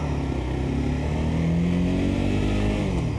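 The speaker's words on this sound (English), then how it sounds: "You can hear the engine rev as I'm in neutral." A car engine revs steadily and loudly in neutral between gear shifts during clutch and throttle driving practice, with a continuous close drone that rises slightly in pitch.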